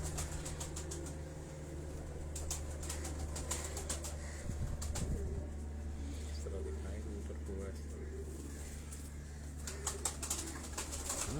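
Pigeons coo softly and flap their wings now and then beneath a steady low hum. Someone talks over the birds throughout.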